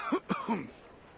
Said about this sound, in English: you seem to have quite a severe cough